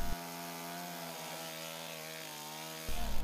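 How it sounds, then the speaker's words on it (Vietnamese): Chainsaw cutting branches and trunks of storm-felled trees on a Hanoi street, a steady loud droning whine with shifting pitch running throughout, briefly revving harder at the end. "những công nhân công ty cây xanh hối hả cưa cành chặt thân cây gãy đổ"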